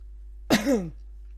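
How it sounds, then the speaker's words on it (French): A single short, harsh cough or throat-clear bursts out once, close and fairly loud, then fades against a steady low hum. "au moment où je dis ça, je tousse"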